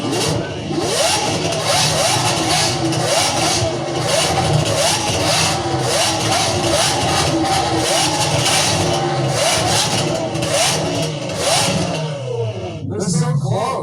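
Lamborghini Revuelto fitted with a Gintani exhaust revs loudly and repeatedly, engine notes climbing and falling in quick bursts, with a sharp final rev and a sudden cut near the end; voices talk over it.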